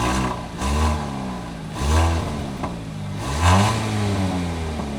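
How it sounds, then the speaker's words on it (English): A car engine with a stock exhaust revs up and settles back several times in a row, a deep, throaty exhaust rumble rising and falling close by. "that's how she's sounding right now. That is completely stock exhaust"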